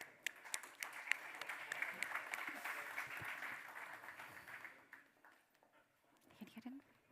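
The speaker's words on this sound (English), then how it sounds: "Let's give them a round of applause." Scattered applause from a crowd at an ocean innovation presentation, a steady patter of clapping that thins out and fades away toward the end.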